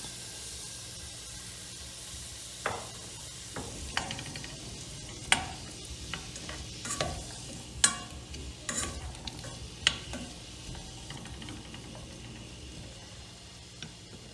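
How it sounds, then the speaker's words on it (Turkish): Vegetables for celery lentil soup sauté steadily in a pot, sizzling while a utensil scrapes and clatters at irregular intervals, stirring them close up without voices. "Bütün sebzelerimi bir 5 dakika kadar"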